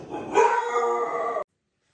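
Dogs bark at an Amazon delivery at home, one loud close woof-like bark stretching into a rough yelp for over a second before cutting off abruptly into silence.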